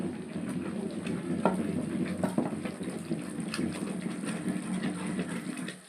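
Jaggery syrup with a little ghee for ariselu gently sizzles and bubbles in a pan while being stirred, a soft, continuous frothy crackle with occasional scraping taps.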